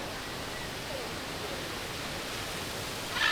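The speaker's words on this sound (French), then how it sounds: "Je suis à la cascade de Duden." Düden waterfall in a busy tourist spot, a dense, steady hiss of falling water filling the scene, constant and fairly close, without speech.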